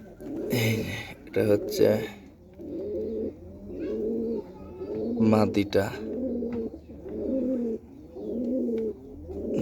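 Gola pigeons in a coop coo in repeated low, rolling phrases at a steady rhythm, close by, while someone talks over them.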